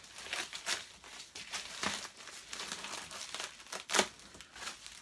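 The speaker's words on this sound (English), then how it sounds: "Let's take off the sticky tape on this one, and the packaging on this end." Sticky tape and plastic packaging are peeled and crumpled off the parts of a vintage Electrolux 330 cylinder vacuum cleaner, giving close, continuous crinkling and tearing in irregular bursts, with a sharp louder rip near the end and no voices.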